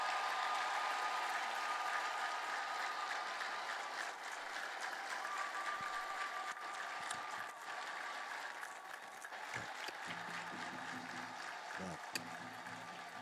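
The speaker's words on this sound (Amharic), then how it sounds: "ምድር አንቀጥቅጥ፣ ጭብጨባ፣ እልልታ" A church congregation at an Ethiopian Orthodox church in Minneapolis claps continuously while high, sustained ululations ring out over the applause, fairly distant and filling the space.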